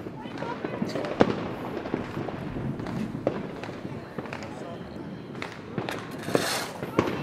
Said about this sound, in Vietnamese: Wow, các bạn nghe đó nó bắn không?